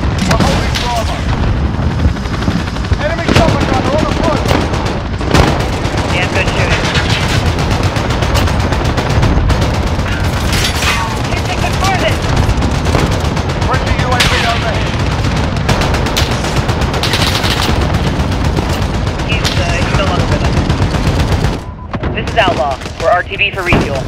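Rapid gunfire from a Marlin 1895 SBL rifle in Modern Warfare, mixed with dense bursts of other weapons and booms, loud and continuous throughout, with voices talking over the battle.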